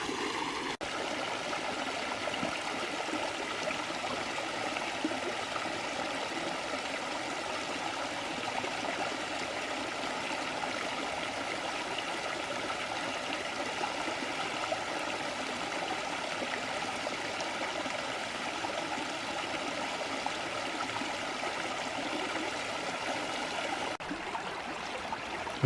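A forest creek in Bankhead National Forest, Alabama, flows and trickles steadily at a bend, a soft, even rush of running water that stays constant from start to finish.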